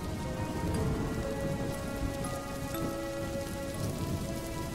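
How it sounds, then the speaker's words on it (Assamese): Rain patters steadily on surfaces while low thunder rumbles, a storm effect for an Assamese horror story, with faint tonal music lines running underneath. "আকাশত বিজুলী চমকি উঠিল। ঢেৰেকনিৰ শব্দৰ লগে লগে কিনকিনে বৰষুণ জাকো পৰিব ধৰিলে।"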